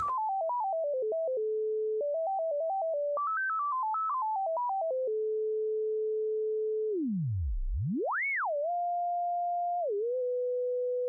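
A Schlappi Three Body synthesizer oscillator plays a clean sine-like tone that steps through short melodic runs, holds a steady pitch, then dives low, swoops up and settles on a sustained note, alone with no talk.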